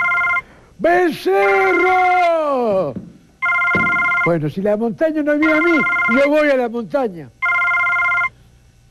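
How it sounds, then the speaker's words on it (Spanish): A mobile phone rings in repeated electronic trilling bursts with short gaps, loud and steady, while someone shouts and talks animatedly in Spanish between and over the rings. "Mi celular. Está sonando hace rato, hijo."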